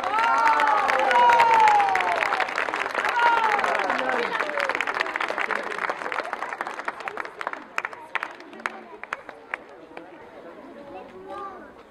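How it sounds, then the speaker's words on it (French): Audience applause and cheering from a crowd, loud and dense at first with voices over it, then thinning into scattered individual claps that fade out toward the end. "Oui, on peut applaudir."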